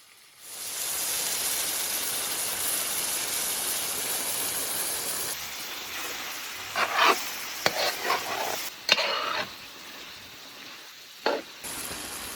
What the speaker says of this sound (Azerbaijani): Üstündən də bulyonu əlavə eləyirik.